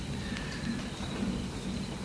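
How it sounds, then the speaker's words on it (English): Thunder rumbling outside during a storm, a low continuous roll with rain hiss, moderately loud and steady throughout, heard without speech. "Yeah, that's thunder outside. That's some crazy thunder,"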